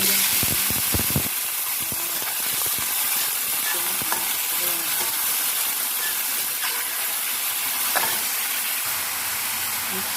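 Chicken and onion stir-frying in a pan, a loud steady sizzle with clinks and scrapes of stirring throughout, close up and without speech.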